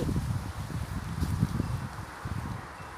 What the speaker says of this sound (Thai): ให้ดูบรรยากาศนี่มีลมนะคะ